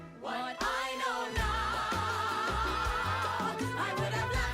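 A song from the Beetlejuice musical plays throughout: sung vocals over steady instrumental accompaniment, with a pulsing low bass line and full, continuous music at moderate level.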